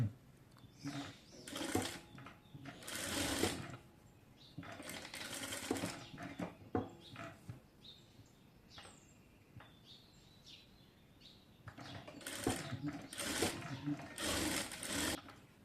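A sewing machine stitches a designer sleeve in several loud bursts of rapid whirring, separated by quiet pauses, close by; faint chirping is heard in the background.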